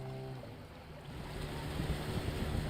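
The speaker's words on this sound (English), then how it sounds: "As the river opened up, a driver and his outboard canoe appeared." An outboard motor canoe on a river in the Darien Gap drones steadily amid wind and rushing water, the low hum building slightly as it goes, moderately distant.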